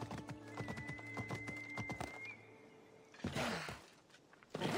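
A horse in the video game Assassin's Creed Odyssey clip-clops along in a quick, even rhythm of hoof strikes, close and clear, then breaks off with a snort and whinny-like bursts near the end.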